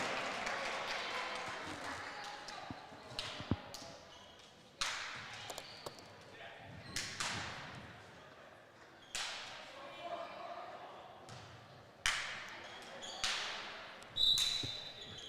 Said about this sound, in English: Dual claps going on here.